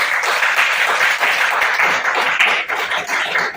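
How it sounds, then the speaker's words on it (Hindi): An audience at a career seminar applauds steadily and loudly, with dense clapping from many hands that continues for several seconds without any voices. "क्या इस पे क्लैप होनी चाहिए?"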